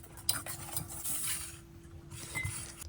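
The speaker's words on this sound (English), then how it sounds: "give it a good whisk and set this aside" A whisk stirs flour, baking powder and salt in a bowl, giving quick, close scraping and light clinking strokes against the bowl in an uneven rhythm over a faint steady hum.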